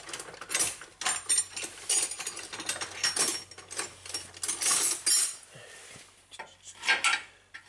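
Metal clinks and scrapes of a wrench being fitted onto the brake hose fitting of a Jeep Wrangler during a brake hose replacement, a run of close, irregular taps and rattles with short pauses.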